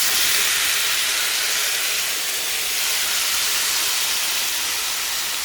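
Chanterelle mushrooms just added to sunflower seed oil in a hot frying pan, giving a loud, continuous, even sizzle and hiss close up with no talking.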